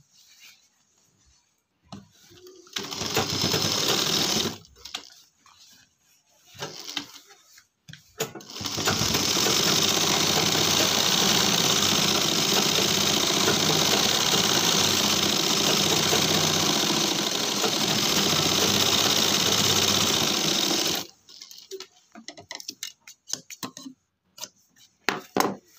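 A sewing machine runs steady stitching along a pant waistband belt, close and loud in one long continuous burst of about twelve seconds, bracketed by short stop-start runs and handling noises.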